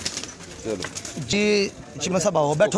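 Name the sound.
pigeons on a rooftop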